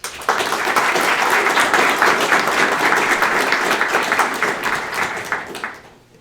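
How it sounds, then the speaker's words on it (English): Audience applause for a speaker at a ReactJS Denver tech meetup, a dense steady wash of many hands clapping close by that holds for several seconds before tapering off at the end. "So please give her a round of applause."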